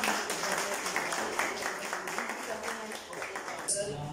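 An audience at a poetry gathering applauds steadily, a dense, even patter of clapping at moderate volume lasting several seconds without a break.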